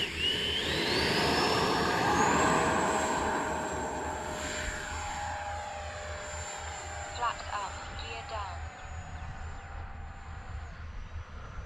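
An FMS Futura V3 RC model jet takes off, its electric ducted-fan whine climbing steeply in pitch and holding a high, loud tone before fading as the plane moves away under open-air wind noise.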